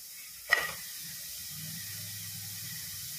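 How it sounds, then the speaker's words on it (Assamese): A sharp sizzle bursts out as jaggery is poured into a hot wok, hissing briefly and then settling into a quiet, low simmer. "আৰু মই সেই কেৰাহীটোতে এতিয়া গুড়খিনি ঢালি দিম"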